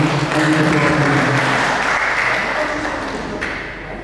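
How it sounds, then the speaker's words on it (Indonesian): Audience applause from guests at an official opening ceremony for a provincial library workshop in West Papua, a dense, steady clapping that fills the room and fades slightly toward the end, with faint speech underneath. "Mari kita berikan aplaus sekalian."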